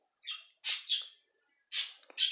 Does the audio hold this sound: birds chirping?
yes